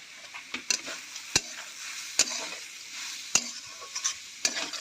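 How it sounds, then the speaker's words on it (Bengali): A vegetable chop filling sizzles in a pan as a spice mix is stirred in. Soft frying hiss runs underneath, and sharp spatula scrapes and clicks repeat every second or so. "পুরটাকে ভালোভাবে ভেজে নেড়ে চেড়ে ভেজে নিতে হবে"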